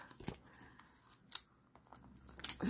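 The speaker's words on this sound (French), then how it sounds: "j'ai pris des petits ciseaux, vraiment des petits qui, normalement, qui ne servent pas à faire ça" Small craft scissors snipping pieces out of a cardboard 3D puzzle, a few sharp close cuts with light paper crinkling, quiet overall and without speech.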